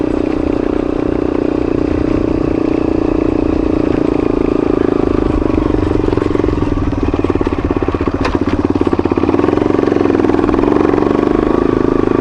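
A motorcycle engine runs steadily while being ridden on Tusquittee Road, its clutch worn and near replacement, a loud continuous drone with shifting pitch and brief rattling clatter near the middle.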